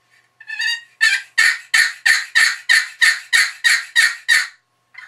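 A wooden box call worked to imitate a wild turkey, giving a short lead-in yelp then a steady run of about eleven loud, raspy evenly spaced yelps, close and alone.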